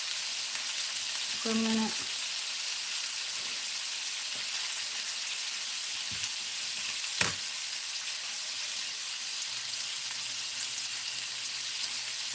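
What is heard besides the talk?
garlic cloves and chicken browning in a pan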